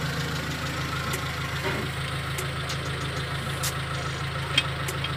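Suzuki Futura van engine idling, a steady low hum with even mechanical ticking close up, running continuously with a single brief sharp click near the end.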